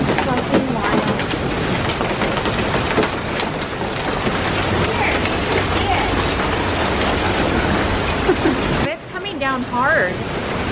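Heavy rain and hail pound a Jeep during a South Dakota storm, a loud, dense, continuous roar of drumming impacts that briefly thins near the end, with voices talking over it.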